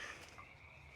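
Frogs croak steadily on a wet disc golf course after rain, a soft continuous chorus at moderate distance with faint higher insect-like or bird tones above it.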